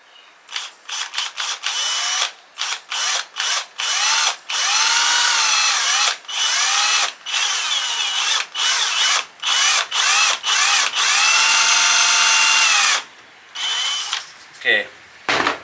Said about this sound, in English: Okay, that hole is drilled.